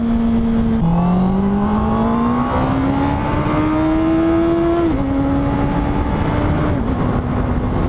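A Honda CB650R motorcycle engine pulls steadily while riding, its whining tone climbing through the gears with brief dips at each shift, loud and continuous with no talking.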